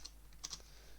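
A few faint, quick key clicks from typing on a computer keyboard, scattered over a second of quiet room tone with no voices.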